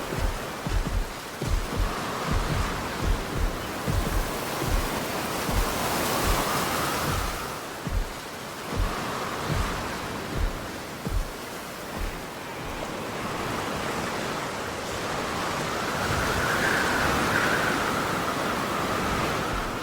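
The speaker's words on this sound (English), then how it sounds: "At present, the forest adjacent to the bayou is undergoing a significant rainstorm." A heavy rainstorm pours over a forest beside a bayou in Jurassic World Evolution 2, a dense continuous roar with low rumbling thuds and no talking.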